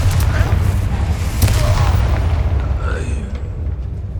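Confringo fire spell explosion in the video game Hogwarts Legacy, a dense booming blast rumble with crackling bursts, loud and sustained before slowly fading, with a faint voice briefly underneath.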